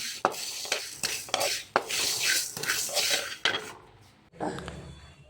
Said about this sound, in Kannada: ನೆಕ್ಸ್ಟು ಗಸಗಸೆನ ಹುರ್ಕೊತಾ ಇದ್ದಾರೆ ನಮ್ಮಮ್ಮ